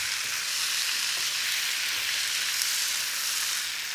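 Potato and chickpea curry frying and being stirred in a pan, a steady, close, even sizzle with faint scraping that holds unbroken throughout, with no talking.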